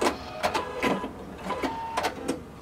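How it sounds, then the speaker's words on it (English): Sewing machine stitching the shoulder seam of a blazer, heard in short, quiet mechanical bursts of a second or less, stopping and starting with brief pauses between runs. "we're going to stitch across our shoulders"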